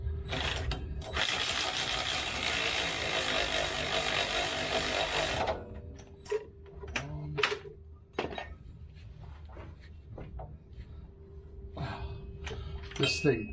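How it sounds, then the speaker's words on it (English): An electric wrench fitting a prop shaft on a 1973 Range Rover runs in a loud steady whirring, ratcheting burst of several seconds, followed by clinks and clunks of tools and parts nearby. "This electric wrench thing, it only does up to a certain force."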